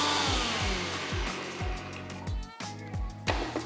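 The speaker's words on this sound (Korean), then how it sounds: "믹서기 뚜껑을 닫고요. 갈아주시기만 하면 됩니다." An electric blender grinds perilla leaf pesto with garlic, olive oil, salt and pepper in a steady, rough whir, with rhythmic thumping pulses as the mixture churns.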